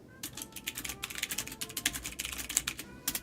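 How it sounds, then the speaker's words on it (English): Fingers type quickly on a mechanical keyboard, giving a dense, irregular run of sharp close clicks and clacks with no talking. "I haven't switched from this accursed mechanical keyboard yet."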